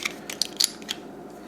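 Plastic Transformers Prime First Edition Voyager Class Bulkhead figure having its arms folded out, giving a quick run of small, close, sharp clicks and snaps over about a second with no talking.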